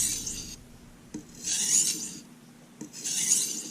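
Chef knife drawn across a Norton Crystolon combination oil stone with very light pressure, giving two distinct gritty rasping strokes separated by short pauses, close and alone.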